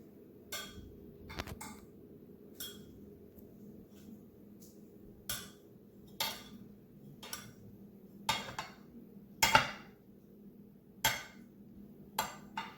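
A knife lifts a freshly baked homemade brownie onto a plate, giving a series of sharp clinks and scrapes spaced every second or so over a low steady room hum, with no talking.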